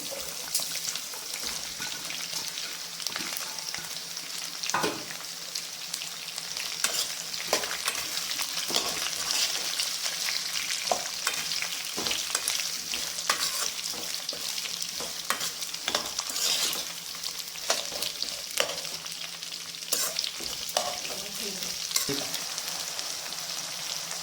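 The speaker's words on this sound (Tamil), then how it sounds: "போட்டு கொஞ்சம் லைட்டாக வதக்கிக்கோங்க வெட்டி வச்ச வெங்காயம் அடுத்தது போடுறேன்" Chopped onions sauté in oil with chillies for a citron rice dish, giving a constant close sizzle broken by frequent scraping stirs of a spoon across the pan.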